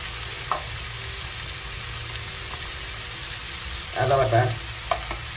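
Ground spices with coriander powder, chili powder and ginger-garlic paste fry in a pan with a steady low sizzle, then a louder burst of stirring and scraping comes near the end.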